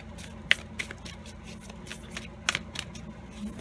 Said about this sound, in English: So let's clear these cards and let's get started.